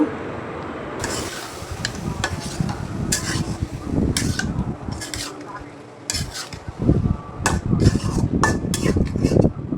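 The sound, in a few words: sautéing potatoes and eggplant in spice paste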